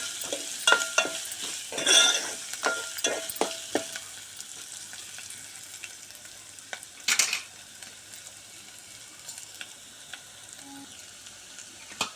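Whole spices and turmeric crackle and sizzle in oil in a pan for khichdi, with sharp scraping stirs and spoon taps early on, then a quieter steady fry, close by with no talking.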